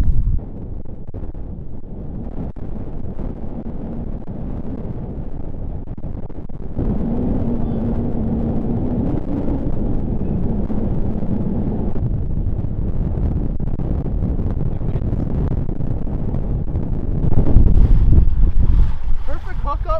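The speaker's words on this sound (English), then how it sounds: "Bear with the wind, though." Strong wind buffets the microphone on a fishing jetty by the sea, a loud continuous rumble that swells near the end with faint voices underneath.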